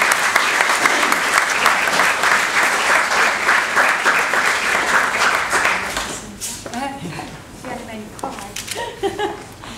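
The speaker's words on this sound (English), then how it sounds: "I think they deserve a round of applause." Wedding guests applauding after the readings, a loud, dense burst of clapping that fades out around six seconds, followed by someone speaking and light room sounds.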